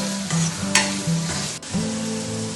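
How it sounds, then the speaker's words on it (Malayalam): Onions fry in oil left over from frying chicken while making onion pakkavada. A close, bright sizzle runs throughout, broken by the scrape and clink of stirring in the pan. "2 നീരുള്ളി നന്നായി ഒന്ന് അതേ എണ്ണയിൽ തന്നെ, ചിക്കൻ പൊരിച്ച അതേ എണ്ണയിൽ തന്നെ ഞാൻ നീരുള്ളി വാട്ടുന്നുണ്ട്."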